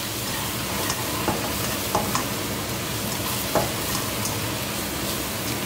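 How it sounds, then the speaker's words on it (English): Around ten cloves of chopped minced garlic sizzle steadily as they brown in a hot pan over lowered heat, a close, continuous frying hiss with a few faint clicks of stirring and no voices. "this is around about 10 cloves of chopped minced garlic. Goes in to the pan. And now I'm going to brown this a little."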